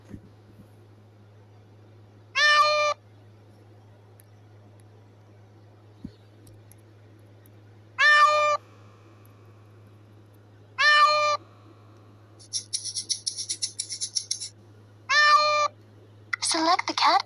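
A cartoon cat meows several times in a children's shapes game, short bright calls spaced seconds apart over a low steady hum, joined near the end by chirpy game effects.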